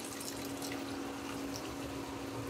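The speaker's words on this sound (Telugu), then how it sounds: "చింతపండు పులుసుని ఇందులో వేసుకుంటున్నాను" Tamarind juice pours into a cooking pot in a steady, continuous liquid stream, heard up close with no talk over it.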